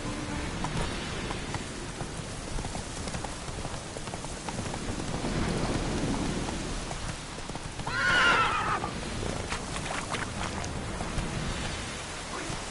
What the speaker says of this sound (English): That's it, Roach. Giddy up.